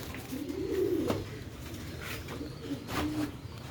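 Sialkoti rooftop pigeons give soft, low coos in a few short rounded phrases, moderately close, over a faint background with light scattered rustles.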